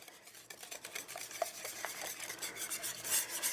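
Wet ingredients for strawberry muffin batter being whisked in a bowl, giving a continuous close scraping and rubbing rhythm with small clinks, soft and steady with no voices.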